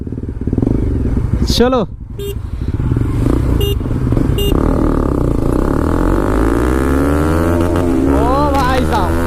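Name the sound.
Bajaj NS200 motorcycle exhaust sound, stock vs Akrapovic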